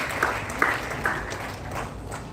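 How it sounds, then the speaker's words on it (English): A seated audience gives a round of applause for a group at a national oratory contest's group discussion round, a short run of clapping at moderate distance that tapers off quickly. "Let's have a big round of applause for Group 1"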